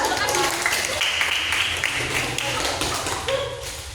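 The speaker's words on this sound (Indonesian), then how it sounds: "Sekarang boleh beri tepuk tangan dulu ke kelompok 2." Students in a biology microteaching class applaud a student group, a short burst of close, lively clapping with voices mixed in, fading slightly toward the end.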